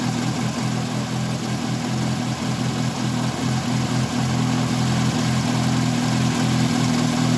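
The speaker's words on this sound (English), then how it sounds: "I'm going to start the vehicle" A VW Mk1/Mk2 car engine idles steadily after starting, a loud, even mechanical drone with a low throb that holds for the whole stretch, with no talk.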